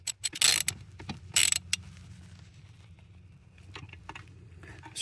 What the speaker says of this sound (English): I'm stripping the screw